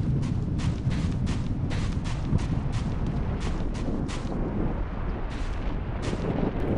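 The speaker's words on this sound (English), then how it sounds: "It's like a chain gun or something over there." A chain gun in Clive Barker's Undying fires in a rapid, continuous rattle of heavy, booming shots, loud and steady throughout with only brief pauses toward the end.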